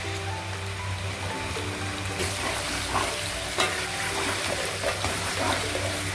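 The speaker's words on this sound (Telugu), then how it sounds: "అల్లం పేస్ట్ బాగా, ఈ ఆనియన్ అల్లం పేస్ట్ బాగా వేగనివ్వాలి" Onion and ginger paste fries in a pan for a fish curry, a constant close sizzle with occasional scraping stirs. It stays steady and loud for about six seconds.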